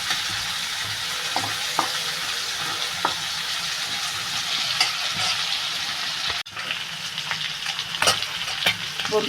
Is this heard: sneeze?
no